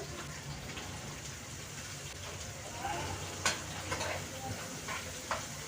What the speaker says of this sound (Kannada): ಸಾಸಿವೆ ಕರಿಬೇವು ಹಾಕ್ಕೊಂಡಿದ್ದೀನಿ ಈಗ ನೋಡಿ ಹಸಿ ಕೂಡ ಹಾಕ್ಕೊಂಡು ಸ್ವಲ್ಪ ಫ್ರೈ ಮಾಡ್ಕೊಳ್ತಾ ಇದ್ದೀನಿ